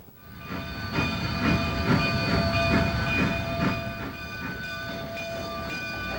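A train climbing into the mountains from Antonito rumbles steadily along the rails with rhythmic clacking, while a horn-like tonal whine holds underneath; no one speaks.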